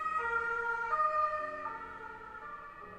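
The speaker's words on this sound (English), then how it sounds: "there's an ambulance." An ambulance siren wails outside in a steady rising and falling tone, clear but somewhat muffled, with no talking.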